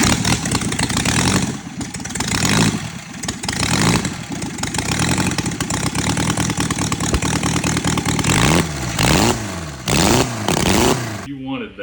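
A $200 military surplus four-cylinder generator engine runs loud and close, revving up and down with rough, uneven idle surges and rhythmic throttle blips, while several people talk excitedly over it.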